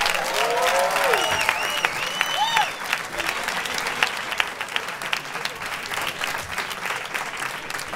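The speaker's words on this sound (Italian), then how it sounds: "vi chiedo un grandissimo applauso per John Nodi" Audience applause at an open mic comedy night in Bologna welcoming the opening comedian, a sustained wash of many clapping hands, with cheers and whoops rising over it early on.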